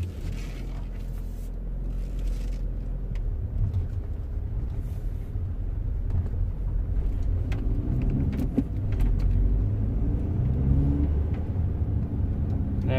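Volkswagen Passat with an ABS/ESP fault being driven, heard from inside the cabin as a steady low road and engine rumble with occasional light knocks and rattles.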